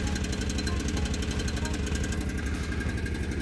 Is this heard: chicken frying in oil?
no